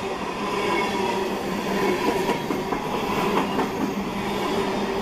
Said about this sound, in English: I don't think I've seen a train go that fast in my life.